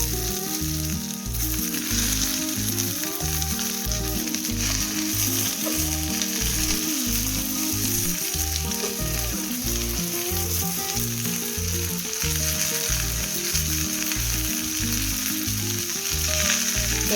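Drumstick leaves frying with sautéed onions in a pan for a murungai keerai poriyal: a continuous close sizzle with occasional stirring, over steady background music and no speech.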